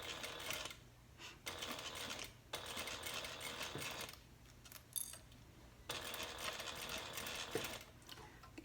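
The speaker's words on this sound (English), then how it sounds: "So I'm going to start sewing with a 1/4 inch." Sewing machine stitching a quarter-inch seam with a backstitch on a handbag's recessed zipper, running in several bursts of steady mechanical whirring separated by short pauses, close up with no talking.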